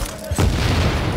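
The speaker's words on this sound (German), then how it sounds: "Das war eine Bombe." A bomb goes off in Tom Clancy's The Division, a single deep, booming blast that starts abruptly and rolls on as a dense rumble.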